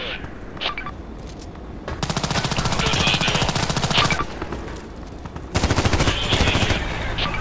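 Loud RPK machine-gun bursts in Contract Wars: a short opening burst, then two long rapid-fire strings, close and dominant with brief pauses between them.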